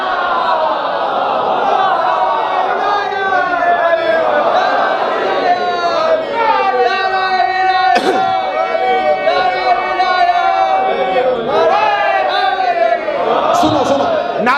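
An audience at a religious gathering chants slogans together, many voices rising in rhythmic, overlapping waves that fill the whole stretch at steady, loud volume.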